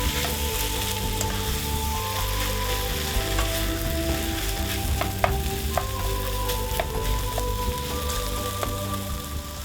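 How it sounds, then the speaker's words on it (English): Tomato pieces stirred into liver and onion frying in a pan: a constant loud sizzle with light crackling pops and a few soft scraping stirs, close up with no voices. "add the tomato pieces. Again, stir well."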